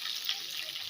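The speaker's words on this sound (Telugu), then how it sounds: "ఇప్పుడు ఈ ఉల్లిగడ్డకి పచ్చిమిర్చికి పచ్చి స్మెల్ పోయే వరకు మనము లైట్గా వేయించుకోవాలి మీడియం ఫ్లేమ్లోనే" Onions and green chillies with curry leaves and mint frying lightly over a medium flame for a lady's finger pulusu, giving a steady, close, even sizzle throughout with no pauses or talk.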